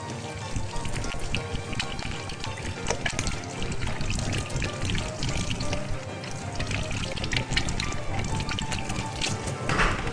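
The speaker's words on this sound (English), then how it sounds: "Then you rinse your hands." Hands are rinsed under a running tap, a steady wash of splashing water that fills the whole stretch without a break, close and moderately loud.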